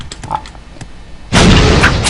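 A grenade explodes in an online shooter, a sudden loud blast that bursts in halfway through and roars on with a broad rumbling tail.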